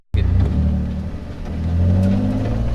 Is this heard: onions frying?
no